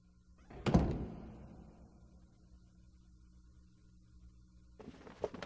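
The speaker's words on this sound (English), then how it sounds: "Seal all the doors and shutters tight." Doors and shutters being shut tight in a folk-tale setting: one heavy wooden thunk rings out and slowly fades, then a quieter stretch before a second burst of clattering near the end.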